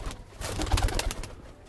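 Soft, low cooing of pigeons close by, a short throaty burble over faint background noise.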